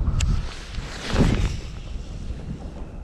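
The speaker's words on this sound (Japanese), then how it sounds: "ちょっと今横風でね、左から、どうやら3メーターぐらいの風が吹いてます。" Crosswind of about 3 meters per second from the left gusting across the microphone while casting a budget baitcasting reel outdoors, a steady close rumble of wind buffeting with a louder surge midway and no talking.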